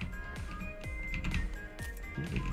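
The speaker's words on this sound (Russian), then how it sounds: "Че там так шумишь клавиатурой?" Computer keyboard keys clatter in uneven bursts of sharp clicks during a PUBG session, mixed with steady game tones and ambient noise, with no one speaking.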